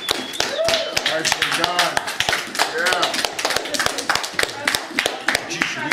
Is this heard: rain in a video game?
no